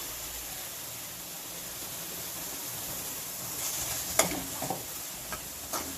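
A ground tomato and onion paste is added to a pot of mutton curry and stirred in, giving a soft sizzle under a few scraping spoon clicks and knocks near the end, close by with no talking.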